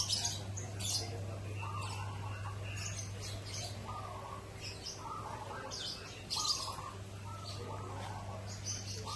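Caged birds chirp in repeated bright tweets and short squawks over a steady low hum of background noise, several birds calling at moderate distance throughout.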